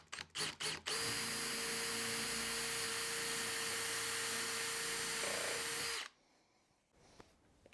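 Power drill driving a screw into a melamine flatpack cabinet piece, a few short bursts then a loud sustained whine for about five seconds that stops abruptly, followed by near silence.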